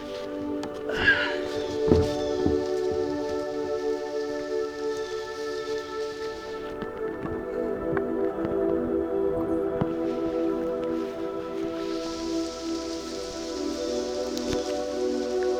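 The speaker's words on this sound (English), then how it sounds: "So I'm getting rained on here." Rain falls steadily outdoors onto plastic whitewater kayaks, a Perception Pirouette and a Karma UL, making a soft continuous patter and hiss that swells near the end, with scattered drips and taps.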